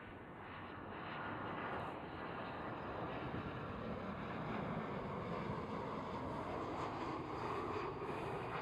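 An EasyJet airliner passes at Schiphol airport, its engine roar swelling over the first two seconds and then holding as a broad, steady, moderately distant rumble with no voices.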